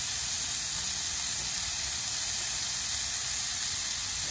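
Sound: onions and burgers sizzling on a griddle

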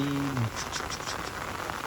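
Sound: heavy rain falling

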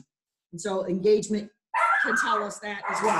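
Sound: dog barking

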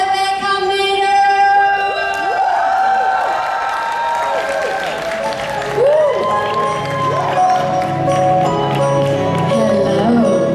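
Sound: audience applause for Rebecca Marder

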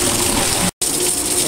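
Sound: pool sand filter pump running water in rinse mode

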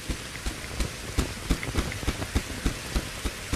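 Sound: rain falling in the video game Reign of Kings

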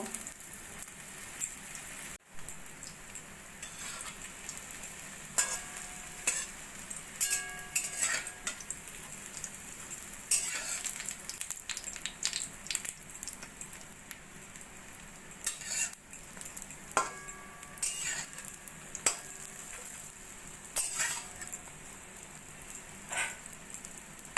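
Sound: bread slices frying in a pan

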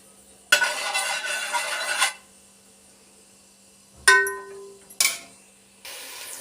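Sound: fenugreek seeds frying in oil for fish curry

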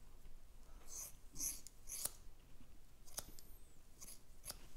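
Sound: scissors cutting hair

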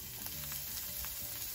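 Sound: shallots frying in fat

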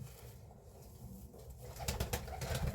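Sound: pigeon cooing

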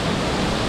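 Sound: waterfall on a hike in the Austrian countryside

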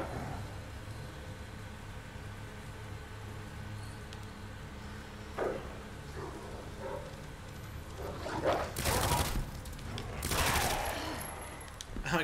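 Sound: gunshots in video game Resident Evil 2 Remake

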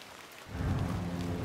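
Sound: rain and thunder effects in video game Hob's Barrow

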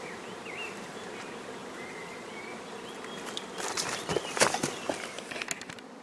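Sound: honey bees buzzing

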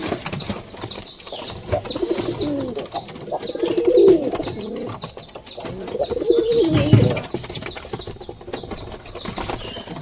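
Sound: pigeons cooing in a loft

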